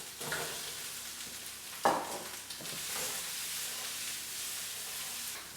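Mushrooms tipped into a hot pan with browned beef and tomato puree for a beef bourguignon, with a sharp burst of sizzle at the drop, then steady close frying hiss and some stirring scrapes, no voices.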